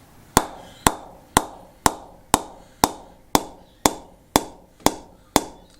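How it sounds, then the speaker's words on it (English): A scuffed, oiled limited-edition Kraken cricket bat is tapped about twelve times at an even pace. Each tap is a sharp, close knock that rings briefly and then decays, with no voices. "So let's give it a tap up and hear what it sounds like."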